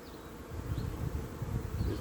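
Honey bees buzz around an open hive while queen cells are grafted: a dense, continuous close-up drone of many wings with small rises and falls, and no voices.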